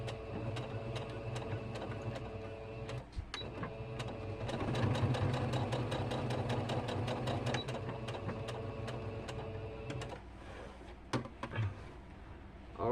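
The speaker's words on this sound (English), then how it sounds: "now I'm going to turn it over and I'm going to sew this back down" A sewing machine stitches fabric in quick, fast-ticking runs, pausing briefly around the middle and near the end before short bursts resume; close and fairly quiet, with no talking.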